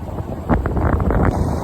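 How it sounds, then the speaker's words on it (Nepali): Cold wind gusts past the microphone on a hill trail, a close, dull rumbling buffet that swells and eases through a brief stretch, with no voices. "कस्तो चिसो चिसो हावा हान्न थालो अब त"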